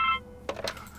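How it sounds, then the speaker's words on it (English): A telephone rings in the adventure game Blackwell Legacy, a short electronic tone cut off before a brief burst of clattering noise, alone without talk. "Answer your phone."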